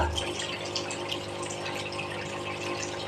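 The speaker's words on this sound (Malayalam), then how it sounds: "വീണ്ടും ഫിൽറ്റർ ക്ലീൻ ആക്കിയതിന് ശേഷം ഓൺ ഉണ്ടായ വെള്ളത്തിൻ്റെ ഫ്ലോയിലെ വ്യത്യാസങ്ങൾ" Water runs steadily from a washing machine just after its water filter was cleaned, a continuous rushing flow close by with a low pump-like hum underneath and no talk.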